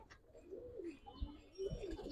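A Giribaz pigeon gives soft, low cooing, two or three throaty rolling coos close by, quiet and alone.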